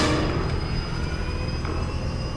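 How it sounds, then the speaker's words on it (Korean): A helicopter lifts off in early morning fog for chestnut tree pest control spraying, its engine and rotor roar loud, close and steady throughout with a faint whine. "밤나무 방제에 투입될 헬기가 이륙한다."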